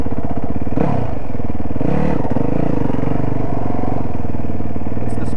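Motorcycle engine running steadily through a wheelie with the clutch pulled in and the rear brake touched, a loud close rumble with a brief scrape and some pitch dips, no talk.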